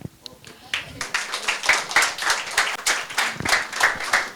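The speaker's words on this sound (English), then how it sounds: "special round of applause for Vinodini" An audience claps for a volunteer at a medical talk on venous thromboembolism prevention, with sharp irregular hand claps that swell into a lively round of applause, close and fairly loud, with voices mixed in.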